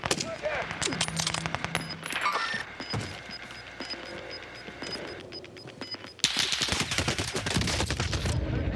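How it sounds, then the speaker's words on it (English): Rapid machine-gun bursts and scattered gunshots in an online multiplayer shooter game, loud and close with crackling volleys in quick succession, pausing briefly and then resuming as a heavy sustained rattle. "Bastards are shooting at me."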